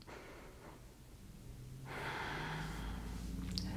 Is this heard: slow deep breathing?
yes